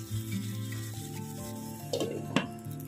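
Taro curry (kola kosur) fries in a covered pan, giving a steady soft sizzle with a few brief scraping and stirring clatters near the end.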